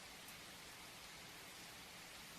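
Steady rain in the video game Twisted Tides hisses as a continuous, even wash of noise, soft and unbroken, with no voices present.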